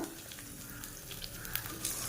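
Steady, soft sizzling of chopped onion and tomato sautéing in a pan, a continuous crackle with a few brief louder pops, no voices.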